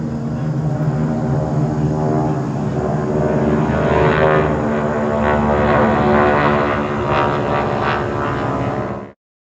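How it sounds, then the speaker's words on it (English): Propeller airplanes drone steadily overhead, a dense layered engine hum with beating harmonics holding loud and even for about nine seconds before cutting off, small planes heading to the annual EAA air show in Oshkosh, Wisconsin. "there was a whole lot of planes flying over me on their way to Oshkosh, Wisconsin for the giant annual EAA air show"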